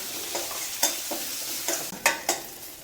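Sliced onions with curry leaves and fennel powder sautéing in a pan, a soft steady sizzle broken by several sharp scraping stir strokes, close and alone.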